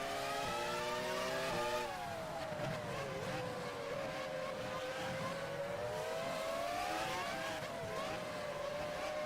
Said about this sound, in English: just hearing the engines behind me scares me